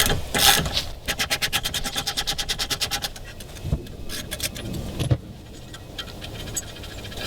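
A socket wrench with a 1/16 socket spins a part off a 2-stroke Mercury Optimax outboard braced with a block of wood: a rapid, even run of close ratchet clicks, followed by scattered clanks and handling noises.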